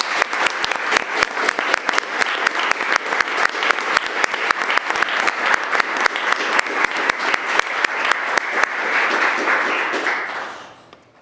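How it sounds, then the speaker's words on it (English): Applause for Dr. Triesenberg at a board of trustees meeting: a large room claps steadily and loudly for about ten seconds, then the clapping thins and fades out. "please join me in giving Dr. Triesenberg a round of applause"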